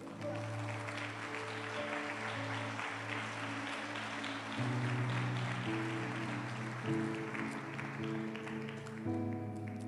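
A church congregation claps steadily for the Lord over loud, sustained worship music, the applause continuing evenly for several seconds with no talking.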